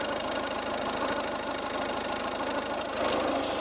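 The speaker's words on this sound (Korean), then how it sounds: "엔진 소음 먼저 들려드리면은" A steady, rhythmic Volvo diesel sedan engine idles close by, its low clattering pulse unbroken throughout.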